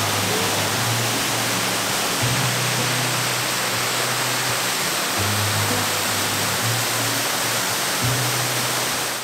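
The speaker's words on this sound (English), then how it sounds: "We stopped at Sabaday Falls, which is a really short but pretty trail to a absolutely gorgeous waterfall." The waterfall at Sabbaday Falls in New England's White Mountains roars as a dense, steady rush of falling water, constant and enveloping with no voices.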